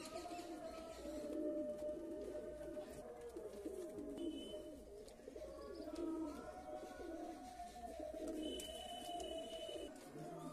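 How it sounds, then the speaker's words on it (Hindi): Desi pigeons coo in soft, repeated rounds close by, with faint chirps and light background noise. A voice is faintly audible in the mix. "एक कालदुमी देसी कबूतर है"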